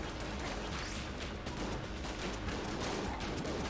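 Dense, continuous gunfire from the bullet-hell game Enter the Gungeon, a steady loud barrage of overlapping shots and impacts with no let-up.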